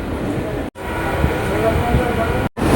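Passenger train rolling on after pulling out of Bagula station, a loud steady rumble and rattle of carriages heard from inside, briefly cut twice, with a voice talking over it.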